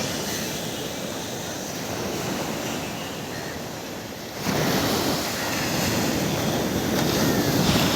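Ocean surf rolls continuously onto Pondicherry beach during the rainy season, a loud broadband wash with wind buffeting the microphone, swelling stronger about halfway through.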